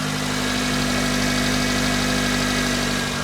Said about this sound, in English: So you can hear that, it sounds just like a 1ZZ now.